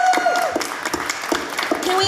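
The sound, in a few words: audience applause at convention panel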